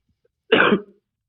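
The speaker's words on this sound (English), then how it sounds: "Excuse me for that cough." One brief, raspy cough up close, over almost in an instant, surrounded by silence.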